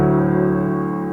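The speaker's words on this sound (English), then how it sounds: "I have a piano sample" A sampled piano tone plays back on a Beetlecrab Tempera granular sampler, sustaining steadily for the whole stretch with rich layered harmonics and a loud, even level, no voices present.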